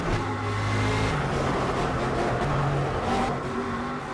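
Engine of an Aston Martin V8 Vantage GTE race car in the Project Cars racing game, a steady loud drone held for the whole stretch with slight shifts in pitch, no talk over it.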